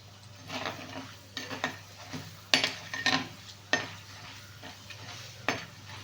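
Chana dal and urad dal frying in hot oil, with repeated scraping stirs of a utensil in the pan over a low, steady sizzle and a constant background hum.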